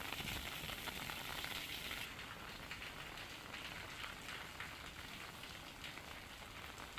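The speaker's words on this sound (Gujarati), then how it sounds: "પાટણમાં વહેલી સવારથી વરસાદી માહોલ જામ્યો।" Steady monsoon rain falling in Patan, Gujarat, a dense, even hiss of drops on surfaces that continues without a break and stays fairly soft throughout.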